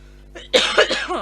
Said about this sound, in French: Je suis désolée si je tousse autant.